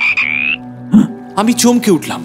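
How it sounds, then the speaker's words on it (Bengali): A frog croaks loudly at close range beside a river at night, breaking a quiet moment with a short sequence of throaty calls, while a voice speaks briefly. "হঠাৎ আমাকে চমকে দিয়ে আমার ডান হাতের পাশে একটা ব্যাঙ বেশ জোরে ডেকে উঠল।"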